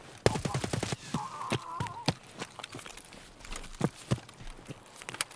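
Gunshots in Escape from Tarkov, a quick string of sharp rapid shots at the start followed by scattered single cracks and thuds, fairly close and punchy over a quiet background.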